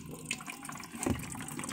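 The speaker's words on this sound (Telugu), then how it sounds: "ఈ విధంగా దీనికి దీనిలో ఫ్లష్ అవుతుంది." Water from a tap-fed storage tank flushes through a small washroom working model, a faint, brief trickle and splash with soft gurgling.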